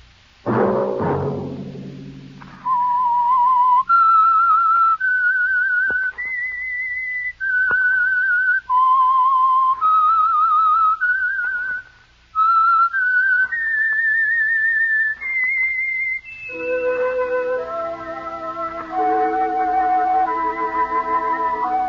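A long, melodic whistled tune of clear, sustained notes rising and falling, the signature theme of the 1949 radio drama The Whistler, played loud and close with brief pauses between phrases.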